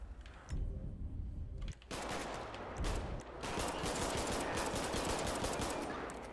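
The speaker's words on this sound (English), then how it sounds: "10 out of 10 shots fired." Gunfire in the police game LSPDFR, with rapid bursts of shots going off steadily over a dense, noisy backdrop and no talk.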